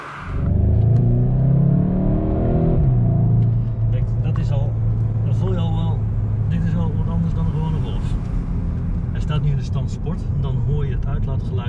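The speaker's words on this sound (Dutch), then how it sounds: "Uitlaatgeluid klinkt wat forser in de rijmodus sport." Exhaust of a 2021 Volkswagen Golf GTI in sport driving mode: a steady, deep engine drone that swells at first, then settles into a constant hum while someone talks over it.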